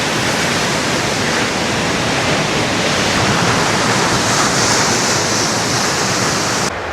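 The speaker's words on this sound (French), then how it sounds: "La cascade en vue, Svartifos tout droit." Svartifoss waterfall in Iceland, a loud, continuous broadband rush of falling water heard up close and unbroken for the whole stretch, with no voices.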